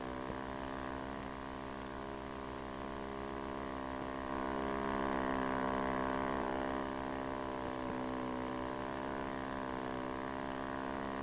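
A small boat with an outboard motor travelling fast through a harbor channel, a steady, droning engine whine with strong harmonic tone that holds level and close for the whole stretch.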